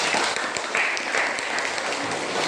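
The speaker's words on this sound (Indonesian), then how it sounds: "Terima kasih tepuk tangan." A classroom of students clapping together, dense steady applause close by, lasting a few seconds with no talking.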